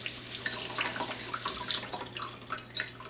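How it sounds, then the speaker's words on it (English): Cool tap water runs steadily into a sink while shrimp are rinsed and deveined in a home kitchen, a continuous close splashing hiss with small drips and shifts in flow. "run some cool water to make sure you get the vein cleaned"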